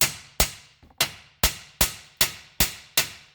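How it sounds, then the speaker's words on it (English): Eight sharp metallic hammer strikes on an outer tie rod end of a 2001 Subaru Outback ring out at a steady, even pace, each a loud clang with a short decaying ring, close by and alone. "we're going to give it some love taps with our hammer to persuade it."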